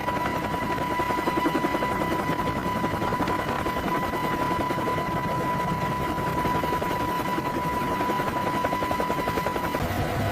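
Boeing AH-64 Apache helicopter rotor thudding in a steady, dense chop with a continuous engine whine, loud and unbroken throughout, no voices.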